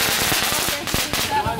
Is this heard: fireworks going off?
yes